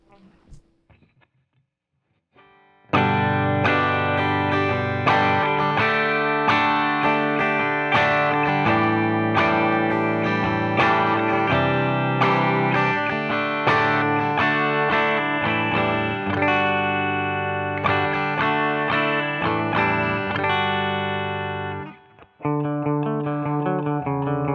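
Electric guitar strummed on its bridge pickup through effects, a dense, bright, sustained run of chords lasting about twenty seconds with a brief drop near the end before picking up again.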